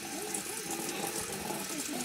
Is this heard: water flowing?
yes